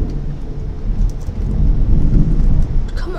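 Thunder from a storm outside during a spooky house game session, a loud low rolling rumble that swells midway and continues to the end, with no speech over it.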